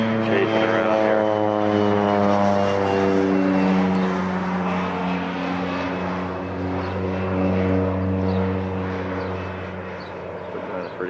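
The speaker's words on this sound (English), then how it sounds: "Got a little airplane chasing around here." Small propeller airplane flying at the 1990 Denver air race, giving a steady, loud engine drone whose pitch wavers slightly as it circles nearby throughout.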